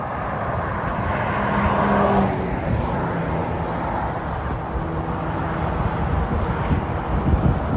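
A Porsche 911 GT3 Touring sports car passes on a Normandy motorway, a broad engine and road roar that swells over the first couple of seconds, then settles into steady traffic rumble with wind buffeting the microphone.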